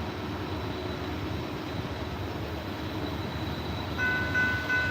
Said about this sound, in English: Not sure if you guys can hear at home, but he is rumbling loud